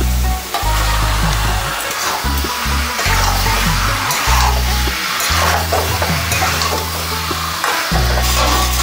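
Marinated chicken is added to fried spice masala in a pan, producing loud, dense sizzling with repeated scraping stirs and low rumbling bursts across the whole stretch.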